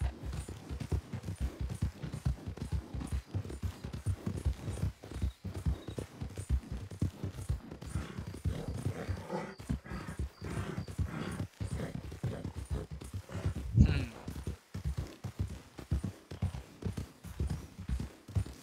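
Horse hooves clip-clopping steadily in a video game, a continuous quick rhythm of soft thuds, moderately close, with an occasional snort and no talk.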